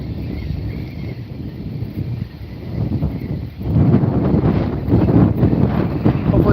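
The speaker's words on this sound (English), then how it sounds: "Hopefully that wind doesn't bother things too bad." Gusty wind buffets the microphone beside the Penobscot River during fishing, a loud low rumbling roar that surges and strengthens in the second half.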